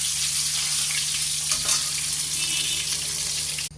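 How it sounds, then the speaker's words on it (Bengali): Fish frying in hot oil for a tamarind fish sour dish: a steady, close sizzle and crackle with a low hum beneath, holding even throughout before cutting off sharply at the end. "মাছগুলো ভাজা হয়েছে, এবার একে একে মাছগুলো তুলে নেব।"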